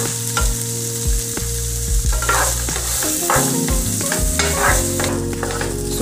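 White chana sundal sizzles steadily in a hot pan while a spoon stirs it, scraping and clattering against the metal in a continuous, close, fairly loud fry with no voices.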